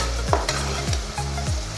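Vegetables and whole spices for a white seeraga samba rice pulao sauté in a hot pan, with a loud, continuous sizzle and a few quick scraping strokes of a spatula stirring them up close.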